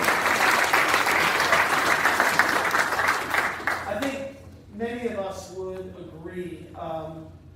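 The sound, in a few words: audience applause at an awards ceremony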